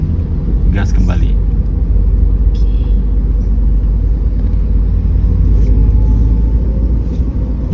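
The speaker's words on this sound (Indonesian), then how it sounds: "Angkat kopling, gas kembali." Manual car engine on a public road, revving up as the clutch is released during a driving lesson, a steady loud rumble throughout with voices talking over it.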